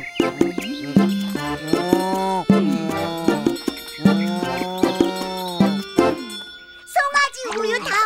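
A calf being fed milk gives a series of drawn-out, loud moos in a repeating rhythm, and a voice is heard briefly at the end.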